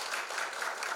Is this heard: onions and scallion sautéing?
no